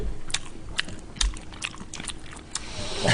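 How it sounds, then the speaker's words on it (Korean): Close, wet chewing of beef tendon, with repeated crisp smacking clicks at an irregular rhythm over a steady low background hum. "이게 쩝쩝쩝 소리를"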